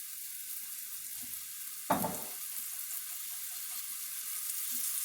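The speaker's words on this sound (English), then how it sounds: "And then get that meat in the pan." Meat for a Philly cheesesteak goes into a pan, a sudden burst of sizzle followed by a faint steady frying hiss, close and quiet with no talk.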